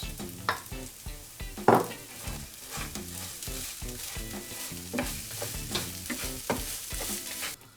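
Rice being stirred into a pan of cooked broccoli and vegetables, with steady sizzling and repeated scraping stir strokes, close and fairly loud, and no voices.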